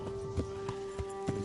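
Hooves clip-clop at an easy walking pace in the video game Kingdom Come Deliverance, five or six soft, evenly spaced steps over a constant low tone.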